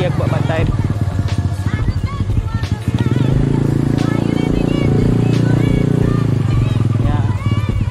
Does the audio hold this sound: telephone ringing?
no